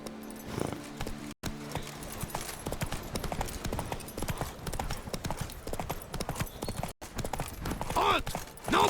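Roach, Geralt's horse in The Witcher 3, gallops with rapid, rhythmic hoofbeats close by over a game soundscape, the pounding steady for most of the stretch with two brief dropouts.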